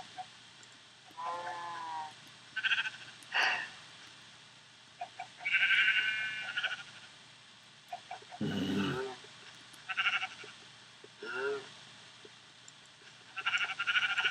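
Cows being herded in a video game, with scattered short animal calls that sound like bleats and lows, spaced out over a quiet background hum.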